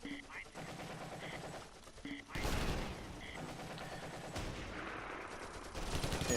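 Gunfire around a town hall in the war game Close Combat, set in a WWII battle near Belgorod and Kharkov: repeated bursts of automatic and rifle shots at middle distance, with a couple of heavier blasts.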